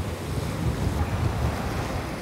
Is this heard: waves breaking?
yes